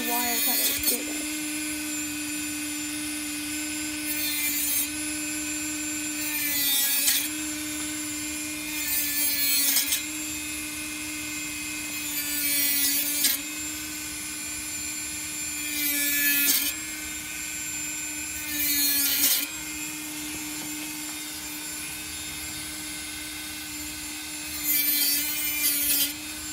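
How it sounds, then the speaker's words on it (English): Dremel-style rotary tool cutting wire mesh for a hamster bin cage, a steady high motor whine with repeated louder grinding bursts every few seconds, close and continuous. "To cut off the wire from the rest of the roll, you can use a Dremel or a wire cutter to do this."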